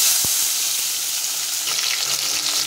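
Tomato drops into hot oil already seasoned with bay leaves, cumin, dried chilli and a pinch of sugar, setting off a loud, continuous close sizzle that swells and crackles throughout.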